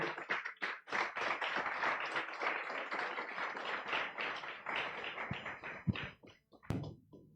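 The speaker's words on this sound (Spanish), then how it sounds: "Puede darle un aplauso al Señor" A congregation clapping in praise at a church service, a close, lively burst of many hands that thins into a few scattered claps and stops.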